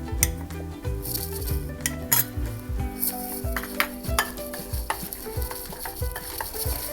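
Clove and cinnamon powder being mixed into eggless Christmas plum cake batter: a spoon scrapes and clinks steadily against the bowl, with repeated sharp knocks and rattles close by, and no talking.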